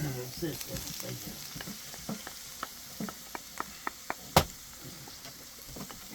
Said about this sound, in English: And then I'm going to mix in my ground beef.